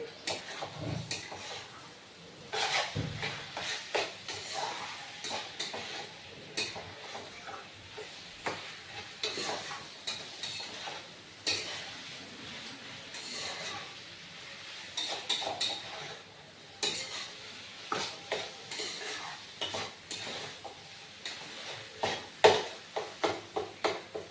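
Taro leaves cook in a pan over a gas flame, giving a soft, quiet sizzle broken by intermittent spatula strokes and metallic clinks against the pan, with no talk.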